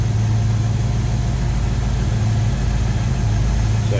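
A 1971 Chevrolet Nova engine idles low and steady, a constant rumbling hum with a faint rhythmic pulse and no speech.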